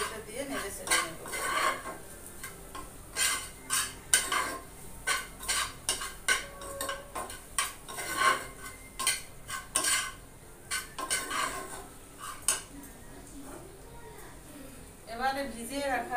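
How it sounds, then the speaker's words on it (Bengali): Flattened rice and egg are stirred in a pan, with repeated metal utensil scrapes and clinks against the pan in an irregular rhythm and a faint sizzle beneath. A person talks at times. "এবার আবারও এটা দিয়ে নেড়ে ছেড়ে নেব"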